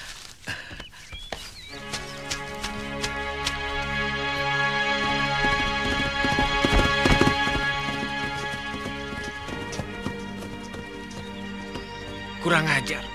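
Horse hooves clip-clop at a steady walking pace through a busy scene thick with music, with people talking throughout and a brief whinny-like burst near the end.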